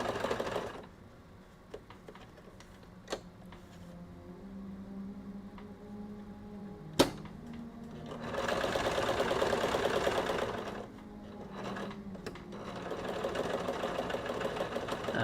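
A sewing machine runs in steady whirring bursts, stopping and starting several times with quiet gaps between runs, close by and fairly soft, no talk over it.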